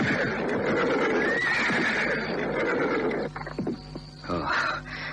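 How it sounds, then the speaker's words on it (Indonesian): A horse-drawn carriage rolls into a house yard at night as the horse gives a loud, drawn-out whinny over clopping hooves, followed by a few quieter snorts and shuffles. "terdengar sebuah kereta kuda memasuki halaman rumah"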